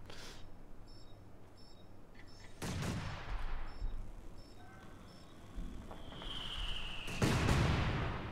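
Gunfire from a World War II battle in Company of Heroes 2, with sharp bursts and a louder volley near the end over a steady background of distant combat and ambient noise.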